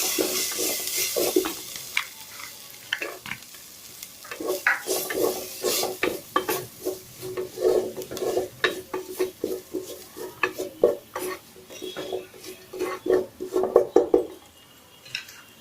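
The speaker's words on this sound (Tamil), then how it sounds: "கிளறிக்கலாம். இந்த பூண்டு பல்லையும் போட்டுடலாம்." Garlic cloves fry in a pan while a utensil stirs them, making repeated scraping knocks over a light sizzle that swells and fades in irregular bursts.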